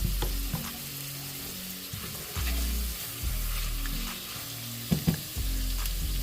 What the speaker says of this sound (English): I'm gonna let this saute down some more